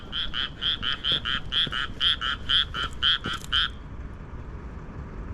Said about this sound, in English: I'm guessing it's frogs in the pond.